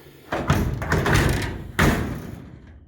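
A 1950 Chevy pickup door without a latch is pushed shut, with a dull thump against the frame, followed by a second heavier thud a moment later.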